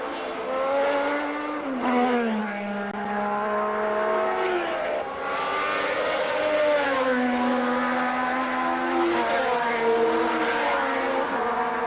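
1979 Formula 1 Ferrari race cars scream through gear changes, the high engine pitch climbing and dropping repeatedly as they race on, loud and continuous throughout with no talk.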